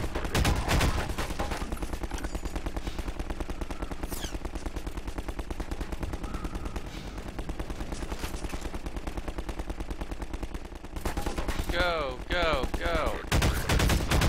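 Alternate fire of a gun in Half-Life 2 alongside antlions, loud repeated gunfire bursts and blasts over continuous game action, with a brief lull before another burst near the end.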